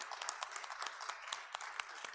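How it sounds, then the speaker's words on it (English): Audience at the Iraq Energy Forum 2018 applauds panelists at the close of a session, a brief, moderately distant patter of many hands clapping with no talk over it. "So please, a round of applause."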